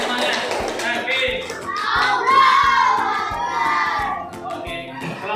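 Schoolchildren in a classroom clapping and shouting for their classmates, scattered hand claps and excited young voices blending into a loud, lively burst that holds steady throughout.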